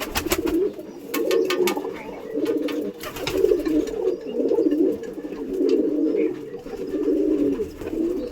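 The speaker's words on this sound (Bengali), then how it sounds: "এটা মালবাহী পায়রা" Pigeons in a loft, repeated low cooing in steady rolling phrases, close and prominent, with a few faint clicks and scrapes alongside.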